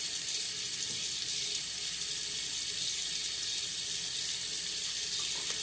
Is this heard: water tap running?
yes